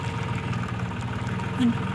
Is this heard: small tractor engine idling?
yes